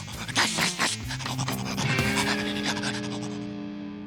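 Gnasher, a cartoon dog, pants in quick rhythmic huffs, close and fairly loud, over a busy animated soundtrack with overlapping tones and no talk.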